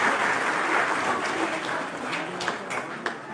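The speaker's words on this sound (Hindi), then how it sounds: "एक बार जोरदार तालियां बजाएं सोलो सॉन्ग कॉम्पिटिशन के लिए।" An audience at a school annual function applauds in a steady wash of many hands clapping, moderately distant, with a few sharper claps toward the end.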